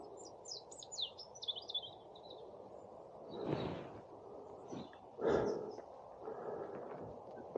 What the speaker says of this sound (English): And I can hear the birds.